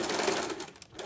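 A home sewing machine runs steadily at an even speed, a continuous close whirring hum of the stitching mechanism heard alone through the short stretch.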